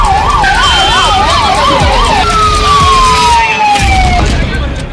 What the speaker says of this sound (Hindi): और फायर ब्रिगेड्स के सायरन से गूंजता इलाका।